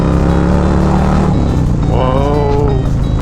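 Harley-Davidson performance bagger with an SNS 475 cam roars loud and close while riding, its engine note climbing as it revs and accelerates, with a rising tonal whine over a thick, constant rumble.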